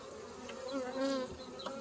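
Soft, close buzzing of many newly installed honeybees at a hive, a low droning hum with individual insects flitting past, fairly quiet.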